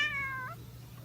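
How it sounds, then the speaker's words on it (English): A cat gives a single short, high meow at the start, trailing off quickly into a quiet room hum. "a little coffee bean here with my other cat Espresso"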